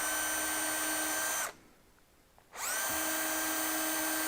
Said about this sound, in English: I'm not bad at holding a drill straight